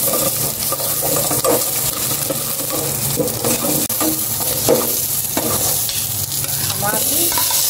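Onions and chili stir-fried in a pan, with a steady broadband sizzle under repeated scraping and stirring strokes, close and fairly loud throughout.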